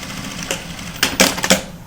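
Sewing machine stitching a dog coat, heard as a few short bursts of rapid mechanical clatter with pauses between, fairly close over a quiet background.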